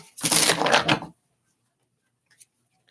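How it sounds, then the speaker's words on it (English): A deck of tarot cards is shuffled in one quick riffle lasting about a second, close and crisp, followed by near silence with a faint tap. "A lot of this is just watching me shuffle"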